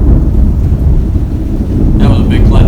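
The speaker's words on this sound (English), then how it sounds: "That was a big clap of thunder." Thunder during a thunderstorm, heard from inside a garage with the door open: a deep, loud, rolling rumble with wind noise, and a voice briefly speaking near the end.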